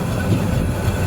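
Train rolling in at Feni junction station in the early morning, a loud continuous low rumble of wheels and carriages, close and steady throughout without speech.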